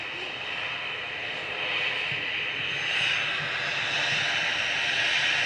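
An easyJet airliner departs Manchester Airport for Geneva, giving a moderate, steady distant jet roar with a broad hiss that swells slightly over a few seconds.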